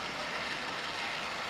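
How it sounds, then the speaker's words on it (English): Model railway trains run along the track on a home layout, giving a steady, continuous rolling rumble and whir with faint clicking from the wheels. "might as well run some trains then"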